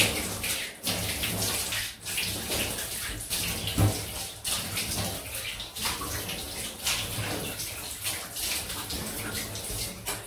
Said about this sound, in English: Right, quick wet rinse.